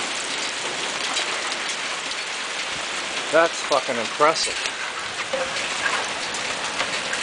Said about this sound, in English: We got golf ball size hail.